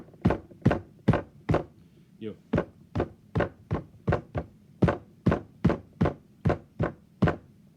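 A voice imitates a bar DJ's music with a run of about twenty steady, punchy vocal thumps in an even beat, close and fairly loud, briefly broken by a couple of spoken words.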